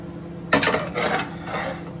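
Cooked dosa lifted from the pan onto a plate, a sudden metallic scrape and clatter of spatula against the pan, followed by softer rattling and scraping that trail off at close range.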